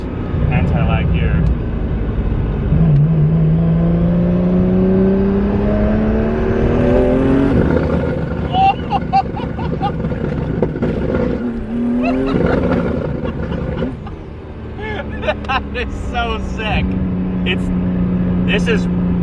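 A 2JZ-swapped MK5 Supra with a true anti-lag setup runs loud and close, its engine roaring and rising in pitch while sharp crackles and pops burst irregularly over the exhaust note.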